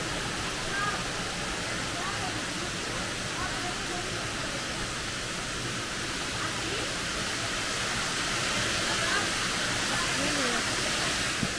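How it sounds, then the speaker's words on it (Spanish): A waterfall at an ecotourism park in a cave area roars as a steady, loud broadband rush that fills the whole scene without pause, with faint voices barely audible beneath it. "Ver la cascada desde allá abajo."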